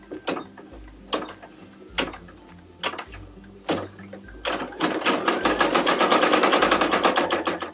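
Brother PE770 embroidery machine stitching a design on a baby onesie: several separate mechanical thumps at first, then a rapid, steady run of loud rhythmic needle clatter up close.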